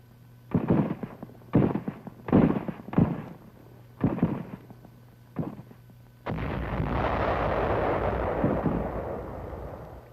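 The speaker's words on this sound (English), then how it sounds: "The attack follows a bombardment by cruisers and destroyers of the 7th Fleet." During a WWII naval bombardment by cruisers, destroyers and mortar fire at Cebu, about six sharp blasts thump in an uneven rhythm, followed by a sustained loud roar of rumbling fire.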